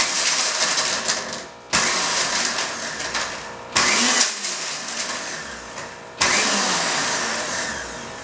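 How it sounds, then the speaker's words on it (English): A mixer grinder jar whirs loudly as it grinds ingredients to a paste, running in four close-up bursts of high-pitched motor roar, each starting sharply and winding down briefly before the next. "And it grinds to a nice paste."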